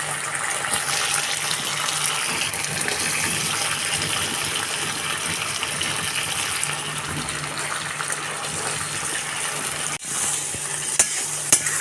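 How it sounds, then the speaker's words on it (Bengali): Cut eggplant being stirred and fried with spices in a hot pan, a loud, continuous sizzle with wet stirring scrapes running throughout and a brief clatter near the end. "এই তো বেগুন দিয়ে নেড়ে চেড়ে বেগুনটাকে এখন খুব ভালো করে কষিয়ে রান্না করব"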